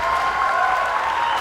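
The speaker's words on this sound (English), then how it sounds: "The crowd now getting excited in that final stretch" A crowd applauds steadily at the ASEAN Para Games as runners reach the final stretch of a track race, a dense, continuous wash of clapping throughout.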